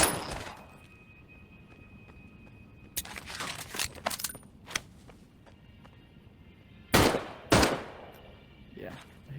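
Luger P08 pistol fired in the Medal of Honor video game: a few sharp, loud shots spaced apart, a cluster around the third and fourth seconds and two more close together later, over a quiet background.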